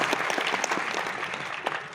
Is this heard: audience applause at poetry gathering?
yes